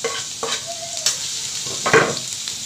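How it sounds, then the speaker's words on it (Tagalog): Garlic sautéing in a preheated pan (kawali) for Batangas lomi, a bright crackling sizzle with a few sharp utensil clinks and scrapes, fairly close and loud, no one talking. "Nagigisahan ko muna ng bawang."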